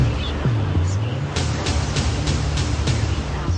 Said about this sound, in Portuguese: Em 2010, as ondas chegaram a 3 metros na região dos lagos e levaram a areia da praia mais famosa de Cabo Frio